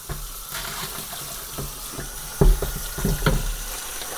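Warm tap water splashes and runs while something is rinsed, a close irregular patter and gush that grows louder in brief bursts, with no talk.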